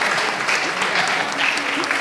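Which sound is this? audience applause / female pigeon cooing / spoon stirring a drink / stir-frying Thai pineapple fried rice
audience applause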